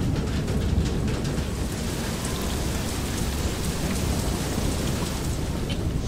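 Steady, heavy rain from a thunderstorm in the video game Far: Lone Sails, a dense, unbroken wash of downpour that fills the scene from start to finish with no voices.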